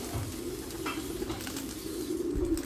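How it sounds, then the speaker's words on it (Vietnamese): Pigeons cooing near a basin of clean water where they dive in to bathe, with soft wing and water movement under a steady low hum; no one speaks. "Thì đây, chim là bắt đầu tắm anh em ạ."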